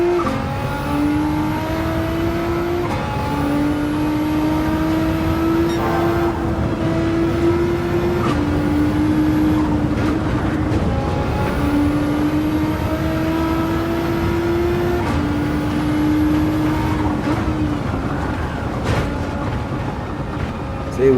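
Race car engine in Gran Turismo 7 career mode, a steady droning whine that rises through the gears in repeated sweeps at a relaxed cruising pace, loud and continuous with a voice talking over it.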